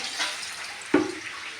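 Water poured into a container while preparing milk for a child, a short splashing pour starting partway through over a low steady hiss, close and fairly quiet.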